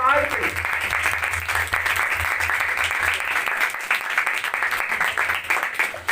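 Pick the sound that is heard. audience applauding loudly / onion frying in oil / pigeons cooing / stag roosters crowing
audience applauding loudly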